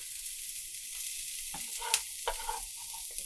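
Onions and mushrooms fry in a pan with a steady, close sizzling hiss, broken by a few brief stirring scrapes and clinks.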